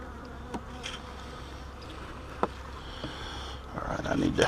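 Bees buzz around a hive box while a small red bird snatches them, a low steady insect drone broken by a few sharp clicks, with rising noise near the end.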